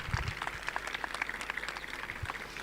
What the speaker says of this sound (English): giving us a strong clap for our speaker